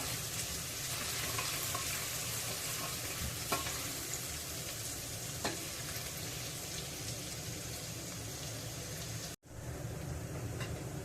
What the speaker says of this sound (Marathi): कांदा आलं लसूण मस्तपैकी परतून झालेला आहे